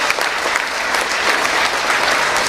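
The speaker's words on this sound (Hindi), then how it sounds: "थोड़ा तालियां का घनत्व बढ़ाइए यार" Audience clapping at a live Haryanvi comedy show during a Holi celebration, loud and continuous applause from a sizable crowd filling the whole moment without a break.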